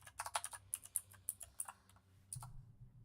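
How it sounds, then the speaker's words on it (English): Rapid clacking keystrokes come from a loud computer keyboard during an Overwatch session, a fast irregular burst of sharp clicks heard up close that stops after a couple of seconds, with no talking over it. "I know that is my keyboard."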